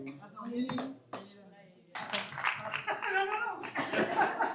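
Audience at a donor ceremony in Vence claps, starting with a few scattered claps and then breaking into a fuller burst of applause mixed with voices and some laughter.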